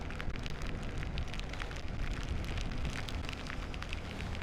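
Steady rain pattering densely and evenly on surfaces during a motorcycle tour from Tangerang to Bromo, a continuous hissing wash with no breaks and no voices.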